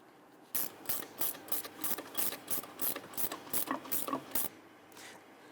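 Ratchet wrench tightening the nut on a rear shock absorber of a 2011-2023 Dodge Charger, a steady run of about twelve quick metallic clicks, close and fairly loud, with no talking.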